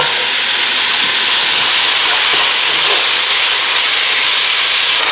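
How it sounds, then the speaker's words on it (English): Water boiling hard in a pot on the stove, a loud, steady rushing hiss with a faint bubbling texture underneath, constant throughout with no voices. "Boiling water."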